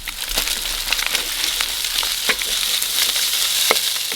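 Instant noodles and vegetables stir-fry in a hot pan, giving a loud, steady sizzle close by, with scraping and tossing noises from stirring breaking through at intervals.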